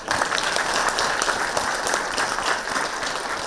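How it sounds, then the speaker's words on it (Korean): Dense, steady applause from an audience at an invited business lecture in a hall, a continuous crackle of many hands clapping close and loud for the whole stretch, with no talk over it. "그래서 박수 한번 쳐주세요"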